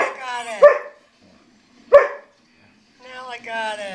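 Two sharp dog barks about a second apart, loud and close, with a voice chattering before and after.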